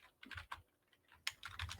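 Quiet, irregular clicks of computer keyboard typing, a few scattered keystrokes with short pauses between bursts, close and soft.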